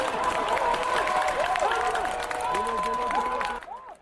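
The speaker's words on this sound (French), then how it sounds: "la famille politique du Premier ministre Amadou Gon Coulibaly lui aura tout donné, des acclamations" A crowd applauds and cheers steadily for Ivorian Prime Minister Amadou Gon Coulibaly, with voices and chanting mixed into the noise, fading out near the end.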